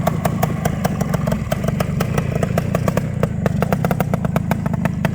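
An Ossa 350 BLT big-bore two-stroke trail motorcycle engine runs loud and close, with a steady, rapid popping beat and metallic clatter throughout, and no talk.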